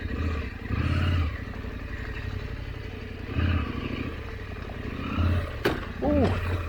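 A big adventure motorcycle crawls slowly over a rocky trail, its low engine rumbling steadily with surges of throttle and clattering, scraping rocks underfoot, while a person talks over it throughout.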